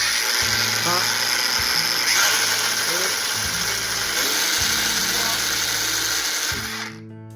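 A Bosch GWX 18V cordless angle grinder runs at its speed settings, giving a steady high electric whine that shifts pitch in steps several times before winding down, heard close with no talk.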